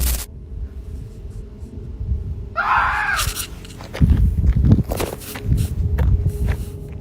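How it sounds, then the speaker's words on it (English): A sharp, wavering human-like scream rises briefly amid rustling footsteps and low rumbling in a forest in the Appalachian Mountains, followed by heavy crunching movement through brush. "a terrifying scream rang through the forest"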